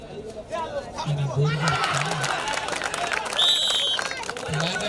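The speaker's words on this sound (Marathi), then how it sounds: "संघासाठी टाळ्यांचा पाऊस पडतोय" A crowd at a village kabaddi match in the 2024 Roth kabaddi tournament keeps up steady clapping and cheering, with whistles and chatter in the mix and voices talking throughout.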